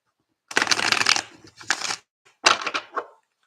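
Tarot cards being shuffled by hand in three quick riffling bursts, close and crisp, with short pauses between them and no talk.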